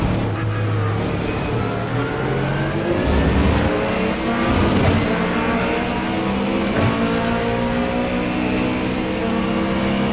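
An American muscle GT3 race car engine in the iRacing simulator drones and revs continuously in wet conditions, with rising and falling gear pitch and a loud, steady roar from start to finish.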